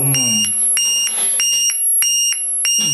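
Shrill electronic beeps pulse in a steady rhythm, a piercing high tone repeating several times, with a brief low voice at the start.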